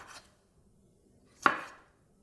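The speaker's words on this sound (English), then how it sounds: "we're going to chop some cilantro and get our zucchini chopped and ready." Knife chopping fresh cilantro and zucchini on a cutting board: a faint cut at the start, then one sharp, close chop with a short trailing rustle, no talk.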